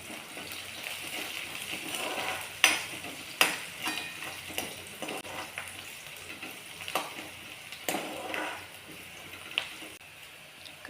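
Chopped onion with a little salt fries in a pan, giving a soft steady sizzle broken by sharp, irregular scraping clacks as it is stirred.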